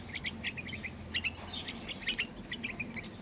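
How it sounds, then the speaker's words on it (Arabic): Young bulbul chicks from Diyala in Iraq chirp in a cage, a run of short high twittering calls repeating close by over a low steady background hum. "طيور مال ديالي عراقي"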